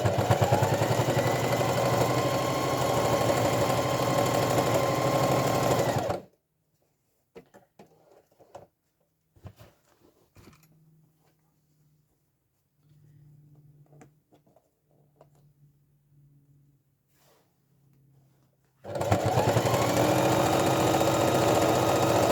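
A sewing machine runs fast and loud as it stitches a quick straight line along an envelope cushion cover. A long stretch in the middle is nearly silent apart from faint handling clicks and a low hum, and then the machine starts again.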